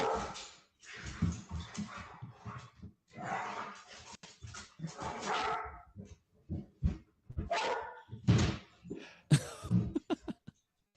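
Several dogs bark, cough-like woofs and whimpers in bursts from a played recording, close and uneven, with gaps between barks and no clear talking.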